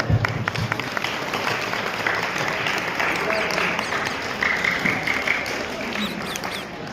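Guests at a naming and hair-cutting ceremony applaud in a sustained, fairly close wash of clapping that fills the room for several seconds, with faint voices mixed in beneath it.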